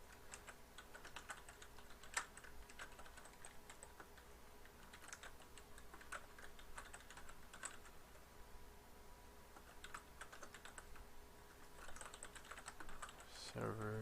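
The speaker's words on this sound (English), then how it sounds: "let's type out the PowerShell command for this" Quiet, steady keystrokes on a computer keyboard while a PowerShell command for a Windows Server service account is entered, irregular soft clicks in bursts with brief pauses, alone without talk.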